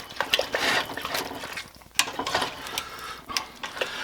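Chicken curry simmering in a pot while a utensil stirs it, giving wet, sloshing scrapes in uneven strokes against a soft, continuous bubbling background.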